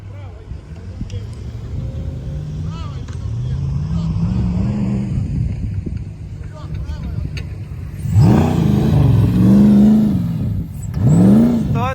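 A Lada Niva on its first drive after repairs labours over sand, its engine droning at low revs, then surging in two loud revving climbs toward the end, with voices talking over it.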